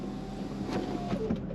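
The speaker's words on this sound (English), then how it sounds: "Window back up" A power window on a Mercedes-Benz S55 AMG (W220) closing, a low steady electric motor whine with faint mechanical ticks, heard close inside the car over the idling engine.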